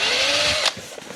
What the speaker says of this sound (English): Drill that again.